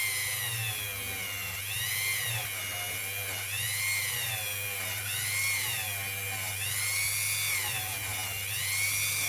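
A Dremel rotary tool whines as it works a Georgia quarter coin ring, its high pitch rising and falling in repeated swells as pressure changes, over a steady low motor hum.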